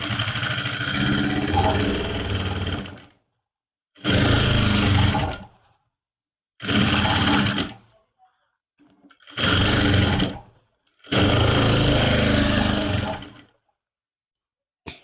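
Sewing machine stitching a seam on a suit lining, running in five separate bursts of a few seconds each with silent pauses between, close and steady.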